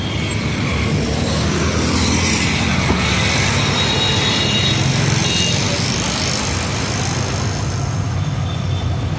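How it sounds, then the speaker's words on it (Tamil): Road traffic roars past outside a parked car near a village camp, a dense, continuous rush of engines and tyres, loud and unbroken with no clear gaps. "இந்த டிராஃபிக் சத்தத்தை நீங்கள் கேளுங்கண்ணே."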